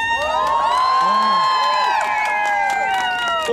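A crowd at an outdoor karaoke show on a town square cheers and shouts loudly and continuously, with applause and many overlapping excited voices close by.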